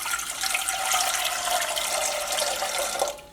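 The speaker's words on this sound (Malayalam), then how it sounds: "പിന്നെ അടുത്തത് നമ്മുടെ സാഗോ റെഡിയാക്കിയിട്ട് എടുക്കാൻ വേണ്ടിയിട്ട് നമുക്ക് ഒരു 2 കപ്പ് വെള്ളം ഒഴിക്കാം." Two cups of water pour into a pot for cooking sago, a continuous close splashing rush that holds steady for about three seconds, then tapers off quickly.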